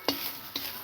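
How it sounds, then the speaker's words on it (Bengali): Dried coconut being stirred in a hot pan, two short scraping strokes of a spoon standing out over a steady, quiet background hiss. "একটু ভেজে দিলে নারকেলটা যেটা গন্ধটা লাগে সেটা চলে যাবে"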